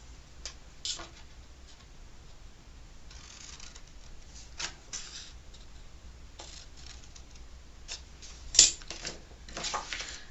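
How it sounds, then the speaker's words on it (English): Scissors cutting through card at a craft table, a series of faint, close, crisp snips and small ticking sounds spread irregularly, with a sharper snip near the end. "then I'm going to cut down there with scissors"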